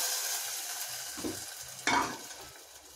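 A tempering of curry leaves and dried chillies hisses and sizzles as it is stirred into dal, with a loud burst of frying about two-thirds through that fades back to a steady crackle.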